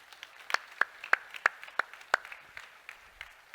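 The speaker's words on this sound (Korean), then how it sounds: "박수." A handful of people in a church audience clap during a sermon, loose, scattered and fairly quiet, with separate claps rather than a full ovation, trailing off after a few seconds.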